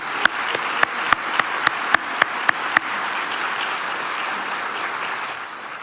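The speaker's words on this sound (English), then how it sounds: "let us extend a resounding round of applause to our STEAM event partners." Rhythmic hand clapping at the 2024 Brownsville State of the City event, a steady series of sharp claps at first, then fading into a broad wash of sustained applause.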